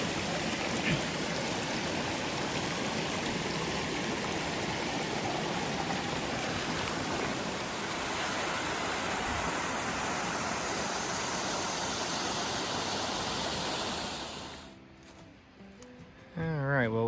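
A small rapid and pools on a river in North Cascades National Park, a steady broadband rush of flowing water close by that fills the scene, dropping away near the end.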